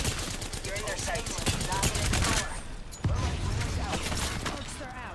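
Video game gunfire in a battle with shields and grenades: rapid bursts of loud shots for the first couple of seconds, then a sharp blast and continued clattering fire, with some game speech mixed in.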